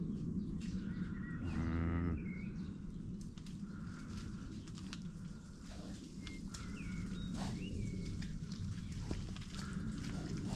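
A cow moos once, loud and close, with a long harmonic call over steady farmyard background noise; birds and other farm sounds are faintly audible around it on a morning among livestock.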